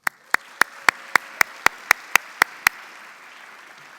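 Roughly ten sharp, evenly spaced claps ring out in a quiet conference hall welcoming Professor Roberts, crisp and close, then fade into room hush.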